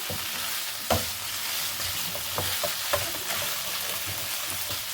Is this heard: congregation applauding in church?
no